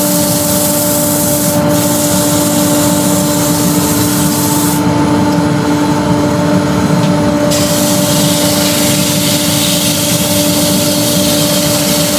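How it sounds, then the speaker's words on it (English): A wooden hollow form turns on a lathe while being sanded, giving a loud, continuous rubbing hiss over the steady hum and whine of the running machine, with no speech. "let's do a little bit of sanding on that one."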